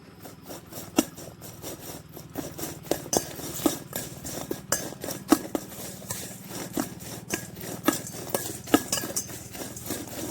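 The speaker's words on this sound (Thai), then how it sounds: "คลุกเคล้าให้เข้ากันนะคะ" Fried june beetles are tossed with fried kaffir lime leaves, a utensil clinking and scraping against the pan in a steady run of sharp, close taps over a low background hum, with no talk.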